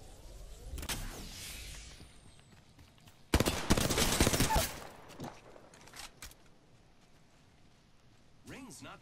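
Bursts of gunfire from the video game Apex Legends, a loud dense volley in the middle with scattered shots before and after, under intermittent voice chat.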